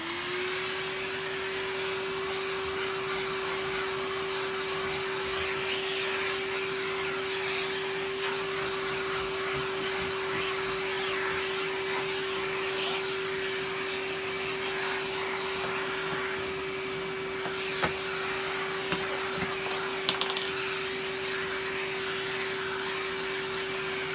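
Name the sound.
vacuum cleaner vacuuming up debris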